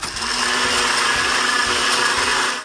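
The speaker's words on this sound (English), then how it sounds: "Here's a traditional blender." A traditional countertop blender runs at full speed with a loud, steady, harsh whirring roar and a high whine. It starts abruptly and holds constant for under three seconds, with no voices.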